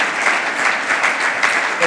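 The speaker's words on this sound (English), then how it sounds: "give a round of applause for these amazing speakers" An audience at a women-in-STEM panel session claps loudly and continuously for the speakers, a dense close-up patter of many hands with slight rhythmic swells.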